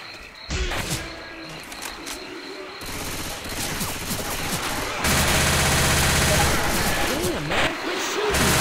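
Video game gunfire in Left 4 Dead 2 in a swamp setting, loud continuous volleys of rapid shots layered with game sounds and background noise, with voices shouting over the shooting.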